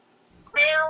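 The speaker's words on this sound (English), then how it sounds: "Y'all don't mind the crazy cat." A cat gives a single loud, drawn-out meow at close range after a near-silent moment, with no talking over it.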